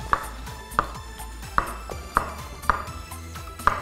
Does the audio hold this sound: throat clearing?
no